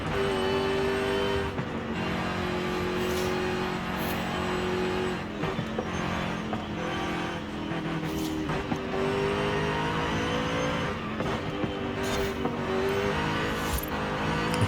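A Jaguar SVR races through corners in Forza Horizon 5, its loud engine held high and continuous, pitch dipping and climbing as it brakes and accelerates, with brief scrubbing bursts between the drone.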